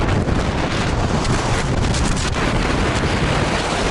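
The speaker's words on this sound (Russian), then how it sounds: "Ветер усиливался до неприличных величин." Hurricane-force wind on Mont Blanc, gusting to about 120 km/h with wet snow, roars as a loud, unbroken rush of buffeting noise against the microphone, with no voices.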